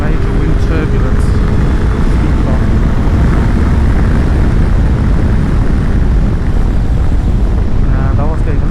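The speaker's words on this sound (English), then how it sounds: "I can feel the wind rushing over my head, but there's no major wind turbulence." Heavy wind roar buffets past a rider on a Suzuki GSX-S1000GX motorcycle, with a loud, continuous rushing and the engine humming underneath throughout, close to the microphone.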